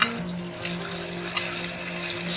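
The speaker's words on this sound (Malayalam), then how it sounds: "നമുക്കിപ്പോൾ ചോപ്പ് ചെയ്ത് വെച്ച് അല്ലെങ്കിൽ ചെറുതായി അരിഞ്ഞു വെച്ച് തക്കാളി ആഡ് ചെയ്യാം" Chopped tomatoes fry with browned onions in a pan for a brinjal masala curry, making a soft, steady sizzle with a few faint stirring clicks, close and without talk.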